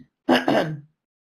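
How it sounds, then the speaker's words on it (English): One close, firm throat clearing in two quick rasping pushes, alone in an otherwise quiet space. "Clear your throat."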